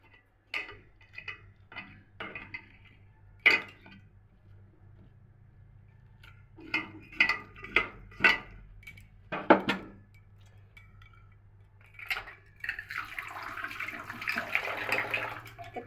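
Chopped chillies are stirred in a pan on a lit gas stove, giving scattered clinks and scraping taps, soft at first and then in quicker clusters, ending in a sizzling hiss.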